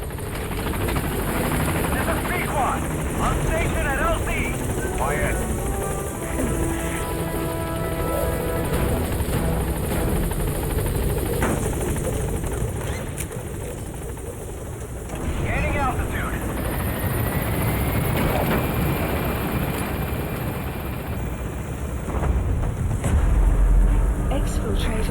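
The B-Quad helicopter from Metal Gear Solid V roars in for a landing, its loud, steady rotor drone filling the scene, while a radio voice speaks over the engine noise.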